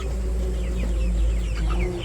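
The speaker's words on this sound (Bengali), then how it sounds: "আর আমার এই যে মুরগি মাশাল্লাহ" Chickens cluck softly in a village poultry house, several short scattered calls over a loud low rumbling background, with no talking.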